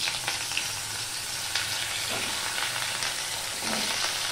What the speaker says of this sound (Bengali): কালো জিরেটা ফোড়ন হয়ে গেলে আমি এই সবজিগুলো দিয়ে দেব।